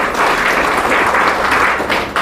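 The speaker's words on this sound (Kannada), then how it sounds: "ಒಂದ್ಸಲಿ ಜೋರಾಗಿ ಚಪ್ಪಾಳೆ ಹಾಕ್ಕೊಳ್ಳಿ" A seated audience at a spiritual class bursts into loud, sustained applause, a dense continuous wash of many hands clapping at once.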